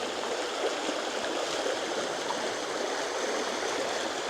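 Shallow creek babbling steadily where it takes a sharp bend of about 75 to 80 degrees, a close, even wash of rushing and gurgling water with no talk.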